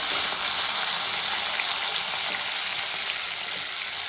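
Boiled elephant foot yam and potato pieces, seasoned with salt and turmeric, sizzle loudly in hot oil, giving a dense, constant crackling hiss up close with no talking.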